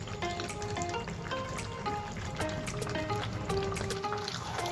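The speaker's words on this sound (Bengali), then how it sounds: "এখানে আমি এবার দিয়ে দিচ্ছি 20টা কাজু, আমি পেস্ট বানিয়ে নিয়েছি, সেই পেস্টটা আমি দিয়ে দিচ্ছি" Cashew paste made from twenty cashews goes into chicken cooking in a pan for kasuri malai chicken, giving a steady close sizzle and wet frying crackle, with soft liquid squelches throughout and no talking.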